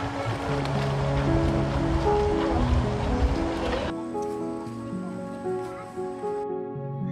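A clear river flows with a steady broadband rush under sustained music, where people gather fern greens at the water's edge.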